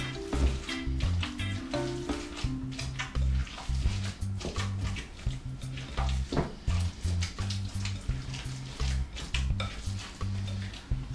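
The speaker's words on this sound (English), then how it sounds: "So I'm mixing with my hands." Meatball mixture being mixed by hand in a bowl, soft squelching and irregular wet handling sounds, close and fairly quiet, with occasional light clinks.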